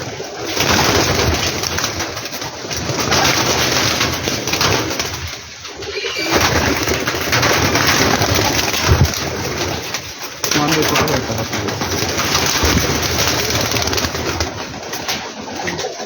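Teddy pigeons coo steadily through a dense, continuous wash of noise, with a voice talking over them throughout.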